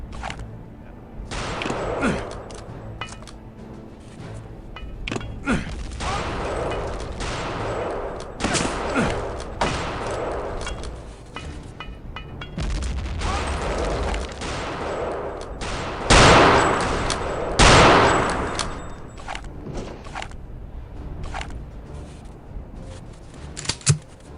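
Return to Castle Wolfenstein weapons fire in repeated bursts and single shots, a rapid irregular clatter of loud cracks, some heavier blasts in the middle, over game background noise.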